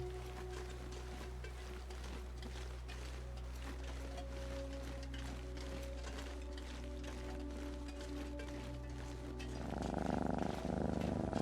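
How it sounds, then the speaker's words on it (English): A steady low purr from a cat character in The Long Dark video game, continuous and close over a droning background, swelling louder near the end. "You should purr again."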